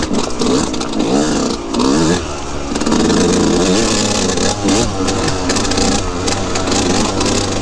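Dirt motorcycle ridden over a rocky Colorado trail section, engine revving and labouring continuously under heavy rattling, clattering and wind noise, loud and close throughout.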